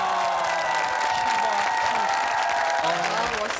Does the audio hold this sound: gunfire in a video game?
no